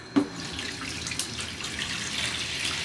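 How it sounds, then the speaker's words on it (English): Hot water pours from a tap into a Conair foot bath, a steady close rush after a brief knock at the start, with no talking. "I'm gonna fill it up with some hot water right now."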